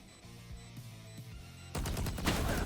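Gunfire in the video game Valorant, a few quiet shots early on, then a sudden burst of loud rapid automatic fire that carries to the end.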